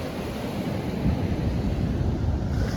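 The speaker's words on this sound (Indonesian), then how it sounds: "Bisa dilihat ombaknya yang begitu besar dan terus" Big surf rolling in at Gopit beach in South Malang on Java's southern coast, a steady broadband roar of breaking waves with wind buffeting the microphone, constant and fairly loud with no voices.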